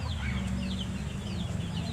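Chickens cluck in a steady, low muttering chorus close by, with faint higher calls overhead.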